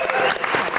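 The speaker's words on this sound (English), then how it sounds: "Sandro, everyone, round of applause." Dense studio audience applause fills a football fan comedy quiz show, steady and close, with a voice speaking over the clapping.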